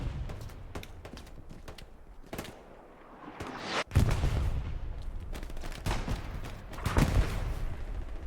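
Gunfire crackles through a World War II shooter game match in the Hurtgen Forest, with scattered single shots and bursts throughout, a louder volley near the middle and another toward the end over constant battlefield noise.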